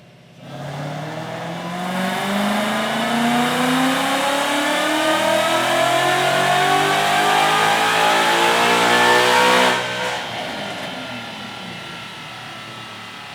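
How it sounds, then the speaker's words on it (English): A 2014 Mustang GT with 3.31 rear gears revs on a dyno run. The engine climbs from low to high rpm in one loud, sustained pull, then lifts off sharply near the end. "We're gonna get him up on the dyno and see what kind of power we can make for him."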